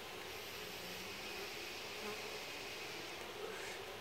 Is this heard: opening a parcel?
no